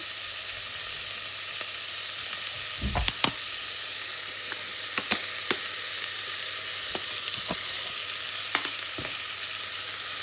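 Chopped onions fry in oil in a pan, a steady close sizzle punctuated by sharp pops and crackles, with no voices.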